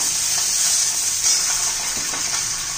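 Peanuts and large green chillies roasting in a hot pan, with a continuous bright sizzle and faint stirring scrapes, close and steady, without talk.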